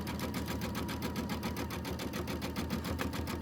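A sewing machine stitches small quilt pieces for a mini quilt in a steady, rapid mechanical chatter, close and continuous throughout, with no talking.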